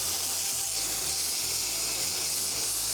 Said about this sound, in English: I'm just gonna steam it a little bit.